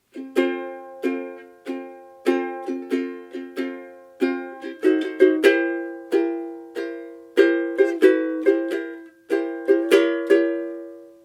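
A solo plucked ukulele plays a chord melody, bright picked notes and strummed chords in a steady, gentle rhythm, close and clear.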